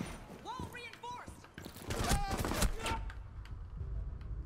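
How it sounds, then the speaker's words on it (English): Gunfire in Rainbow Six Siege, a burst of rapid shots and impacts crackling in the middle, with a player's voice talking before and around it. "Somebody shooting."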